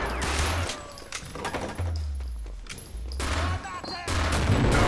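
Bursts of MP40 submachine gun fire in the PC shooter mod Brutal Wolfenstein, several sharp rapid volleys with deep booming thumps between them, loud and repeated across the span.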